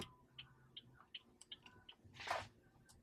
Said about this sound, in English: We have turn signal volume, so the clicking,